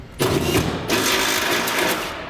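A power drill enlarges a pilot hole while mounting a Curt custom fifth wheel kit on a Chevy/GMC truck: two close bursts of mechanical whirring separated by a brief dip, loud and near.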